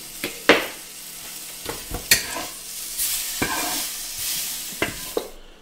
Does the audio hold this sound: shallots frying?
yes